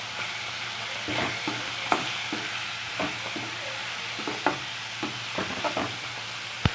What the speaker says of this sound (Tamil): இப்போ இந்த கருவாடை வந்து போட்டுக்கோங்க நல்லா கிண்டி விட்டுக்கோங்க